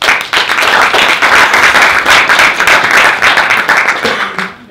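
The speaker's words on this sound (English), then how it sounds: "Another big round of applause for all the speakers." A conference audience at a hydrogen workshop breaks into loud, sustained applause, dense steady clapping that holds for several seconds before fading out.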